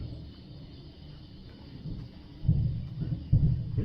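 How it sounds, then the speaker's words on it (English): Distant fireworks go off on Independence Day, heard as low muffled booms, two stronger thuds near the end against a quiet outdoor background. "you guys can hear the fireworks going off"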